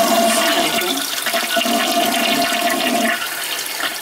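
An old toilet flushing, leaking water from the flange: a loud, steady rushing gush of water that runs for about three seconds, then drops to a quieter refill trickle, with no voices over it.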